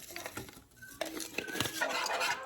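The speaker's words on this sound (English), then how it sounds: "I'm just going to keep whisking until it thickens up a little bit" A whisk clinks and scrapes against a bowl as a seasoned mixture is beaten until it thickens, the strokes close and irregular with no voices.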